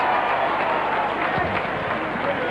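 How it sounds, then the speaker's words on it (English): Sheffield Eagles rugby league crowd applauding in a 1994-95 season match, a steady, dense wash of clapping and crowd noise with no break, heard at a distance. "a round of applause there from the Sheffield faithful"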